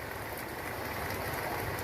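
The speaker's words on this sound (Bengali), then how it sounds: "এখন বৃষ্টি।" Rain falls steadily in hilly riverside country, a soft, even wash of drops on surfaces that stays faint and constant throughout.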